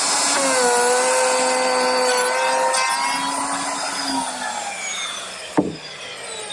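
A power saw cuts a dado groove into the underside of a wooden desk top to take a solid pine back, giving a sustained whining tone that slowly drops in pitch, close and loud, with a sharp knock near the end.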